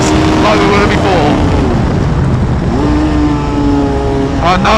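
A Hayabusa-powered Westfield races around the track at Forge Action Day 2021, its high-revving engine screaming loud and close, with pitch rising through gear changes and falling as it slows.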